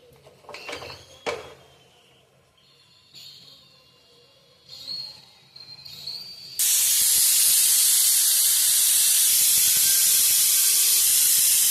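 A pressure cooker steams rice on the stove and its whistle bursts into a loud, sustained hissing release partway through, following quieter clinks and kitchen handling sounds.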